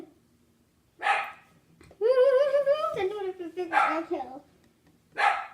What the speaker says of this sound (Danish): undskyld min hund, men den er lidt spastisk lige nu